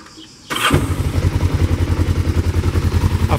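A 1991 Kawasaki GPZ 500S motorcycle with a freshly serviced carburettor fires up after a short starter crank, then settles at once into a close, even, pulsing idle.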